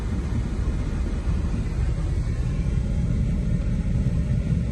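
A 2002 Dodge Ram van 1500 with an overcooling fault runs steadily, giving a continuous low rumbling drone heard from inside the cab. The level stays even throughout and no voices are heard.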